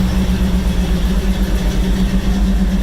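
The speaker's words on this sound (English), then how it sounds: "You can hear how nicely it just sits and idles." A 1971 GMC 1500 Custom pickup's V8 engine idles steadily nearby, a loud, even low rumble with a smooth, regular pulse and no revving.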